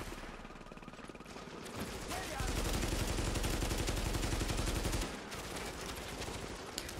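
Heavy automatic gunfire in The Division video game, a loud rapid stream of shots that swells in the middle and then eases to more scattered fire, with occasional speech in the mix.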